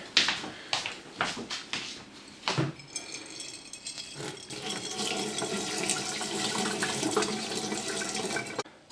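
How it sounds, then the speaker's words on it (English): Hot water drained off soaked canna seeds, opening with a few clinks and rattles of a container, then a continuous loud pouring rush of water that runs for several seconds before cutting off abruptly. "So now I'll just pour this water away."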